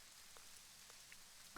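Faint, steady rain falls outdoors as a soft, even hiss, with a few scattered drops ticking through it.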